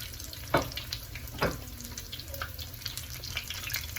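Pork egg rolls, some double-wrapped, fry in hot oil over medium-high heat, giving a soft steady crackle with two sharper splashy bursts near the start and no talk.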